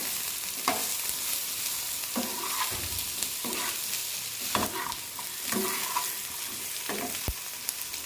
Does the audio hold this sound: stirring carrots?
yes